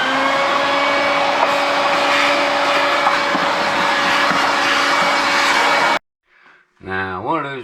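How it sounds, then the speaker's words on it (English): A vacuum cleaner runs loudly and steadily for several seconds, then cuts off abruptly, followed by a brief stretch of speech. "Now we get to vacuum up all this stuff."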